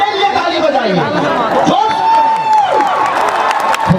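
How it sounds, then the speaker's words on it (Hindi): A large crowd at a show in Nepal claps and cheers, giving a dense wash of applause with whoops and shouts, while a performer's amplified voice carries over the noise. "एक बार अपने लिए ताली बजाइए"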